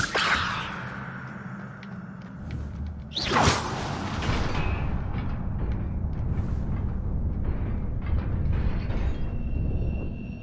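A Levioso spell cast in Hogwarts Legacy gives one sharp rising whoosh a few seconds in. It follows a softer swish and is left with a lingering low mechanical rumble and scattered magical tinkles.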